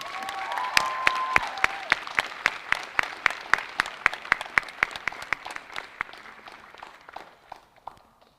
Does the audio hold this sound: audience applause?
yes